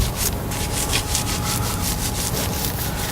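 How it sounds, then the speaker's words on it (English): A long detailing brush scrubs a GMC Denali truck wheel with steady, rhythmic close-up rubbing strokes that repeat evenly throughout. "I'll start rubbing. So it's one of my favorite brushes because it's really long and it gets into all the crevices super easily"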